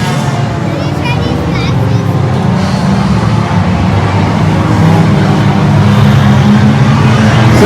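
Hornet-class race cars through a right-hand turn at Evergreen Speedway, a loud continuous engine roar building slightly under an announcer talking over it.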